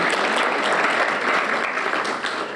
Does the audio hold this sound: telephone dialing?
no